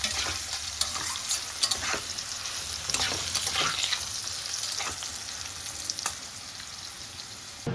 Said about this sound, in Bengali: এখন প্রথমে আমি আলুটাকে একটু ভেজে নিচ্ছি।